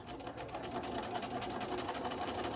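A sewing machine runs continuously as quilt pieces for a small star block are stitched together, giving a steady, close mechanical whir.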